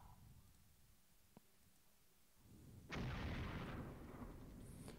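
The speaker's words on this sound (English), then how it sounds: "So that artillery is going to continue to hit." Artillery fire in the Flashpoint Campaigns war game: a faint distant thud and a sharp click, then a heavy booming blast that swells loudly and rumbles on through the rest.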